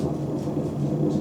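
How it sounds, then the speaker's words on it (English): Thunder and rain as a storm begins: a low, continuous rumble with a soft wash of rain beneath it, steady and moderately faint. "You head back to the theater just as it begins raining."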